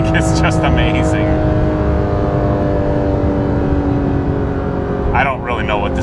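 A Porsche GT3 RS with Dundon race headers and a full exhaust holds a loud, steady high-pitched wail from inside the car before it drops off, with voices talking at the start and end.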